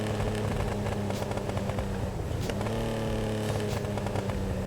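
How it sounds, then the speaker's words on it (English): A Benefactor Sterling GT in GTA Online rumbles with a loud, continuous engine note, shifting down with crackling exhaust burbles throughout, no talking. "Listen to this car downshift and listen to the burbles."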